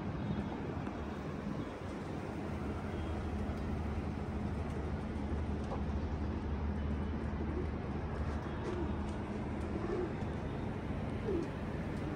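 Pigeons cooing softly at a modest distance, repeated low calls over a faint hiss of wind noise, with no one talking.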